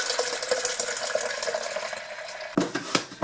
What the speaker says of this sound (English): I'm going to pour all of the juice into a larger pitcher.